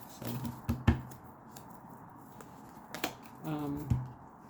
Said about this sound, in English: Y'all see me shuffling the cards.